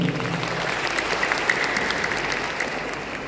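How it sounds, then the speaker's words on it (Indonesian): Audience applause after a speech at a youth event, steady dense clapping from a crowd held at an even level throughout, with scattered sharper claps standing out. "sekali lagi beri aplaus untuk Sari"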